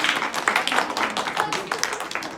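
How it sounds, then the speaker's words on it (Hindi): An audience at a school program for Swami Vivekananda in Molarband claps together, a dense, steady patter of many hands, close and moderately loud throughout the short burst. "जोरदार तालियां भाई।"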